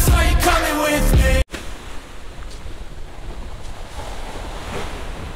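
Strong wind gusts across a seaside campsite in Lobo, Batangas, as a loud, rushing roar with surf beneath it, preceded by a brief burst of loud, clipped noise that cuts off abruptly.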